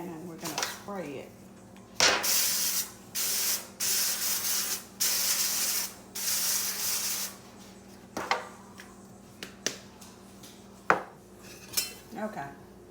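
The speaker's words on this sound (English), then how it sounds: "the pan and we're gonna spray it." Cooking spray hisses onto a baking pan for cinnamon rolls in a home kitchen, several loud bursts of a few seconds each, with clinks of the pan and a few quiet words around them.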